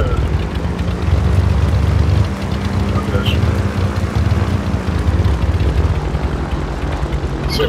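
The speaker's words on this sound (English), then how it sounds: "Ride this plane now, we should be able to make it to America" Airplane engine in Call of Duty: Modern Warfare, a loud steady drone with a low rumbling hum that holds evenly throughout, with no talk over it.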